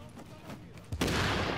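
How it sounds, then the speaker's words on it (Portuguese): Gunfire in The Division video game, a muffled exchange that swells into a sudden loud burst of rapid shots near the end. "eu tô muito tomando tiro"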